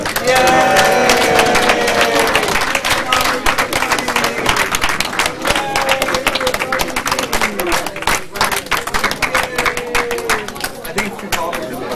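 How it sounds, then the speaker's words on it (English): Guests at an 80th birthday party give a loud, sustained round of applause for the guest of honor, brisk dense clapping with scattered whoops and voices, tapering slightly toward the end. "stand up, give a round of applause to our guest of honor, Rose Sugar."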